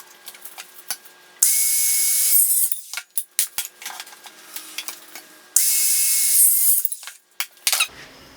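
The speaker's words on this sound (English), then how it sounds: "So this is my circular saw, super easy, pretty light." A small offcut of wood clamped down and cut with a light handheld circular saw, two loud sustained whining bursts of a few seconds each, separated and followed by knocks and handling noises, no talk.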